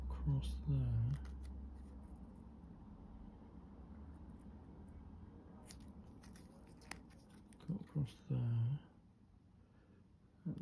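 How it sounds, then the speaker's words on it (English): A scalpel slices across material for a miniature apartment model, giving sparse crisp scraping clicks up close, with a few short murmured vocal sounds at the start and near the end. "So just get this cut. Just cut across there."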